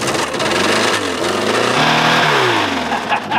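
A Fiat car engine starts and revs loudly, rising and falling in pitch through several throttle blips close by.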